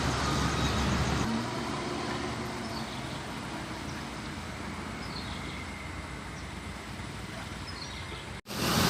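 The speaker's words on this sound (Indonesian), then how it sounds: "Bus Putra Pelangi telah memasuki terminal BPRS Pekanbaru ini, menuju ke peron keberangkatan." A Putra Pelangi bus rolls into the BPRS Pekanbaru terminal toward the departure platform, its steady engine rumble and road noise continuous and fairly close, ending in a brief cut.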